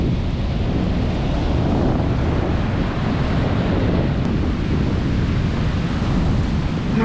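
Ocean waves surge and churn in a continuous roar, with the water swirling and tumbling like a washing machine. Heavy wind buffets the microphone throughout, and no one speaks.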